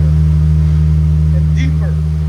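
Supercharged 3.0L V6 in a 2017-2020 Jaguar F-Pace with ultra quiet mufflers, idling with a steady low exhaust drone throughout, subdued and continuous, with a brief voice passing over it.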